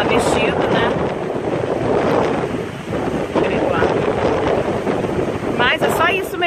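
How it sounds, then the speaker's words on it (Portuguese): Hurricane Matthew drives a strong wind past a lake, producing a loud, continuous roar and buffeting against the microphone. Brief voices are heard at the start and end. "Você dá pra ouvir o vento de tão forte que é."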